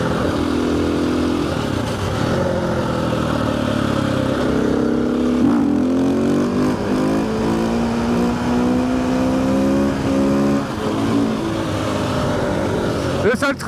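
A KTM EXC 450 supermoto motorcycle engine accelerates, its loud single-cylinder note climbing steadily through a long pull before easing off.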